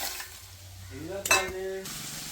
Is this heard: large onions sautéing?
yes